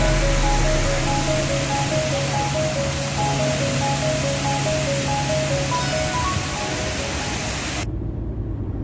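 A man-made waterfall cascades down a natural mountainside in Khorfakkan, Sharjah, producing a dense, steady rushing roar that continues unbroken and fairly close until it cuts off near the end.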